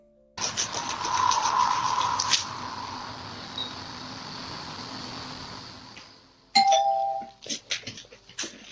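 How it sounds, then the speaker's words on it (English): A Ring camera doorbell rings in a generated scene, a loud bright chime sustained for several seconds, then a quieter hum and a second sharper burst of ringing tones near the end. "I don't know where you pressed the doorbell there,"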